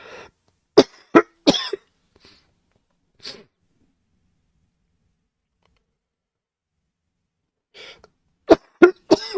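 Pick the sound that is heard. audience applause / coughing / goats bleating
coughing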